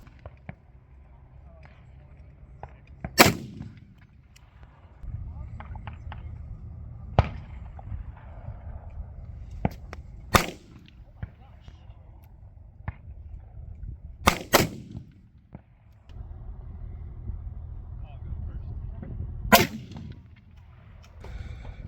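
Several sharp, loud rifle reports from a 300 Weatherby firing 190 grain Accubond long range bullets at an outdoor range, about five shots spaced a few seconds apart, with quiet talk and background noise between them.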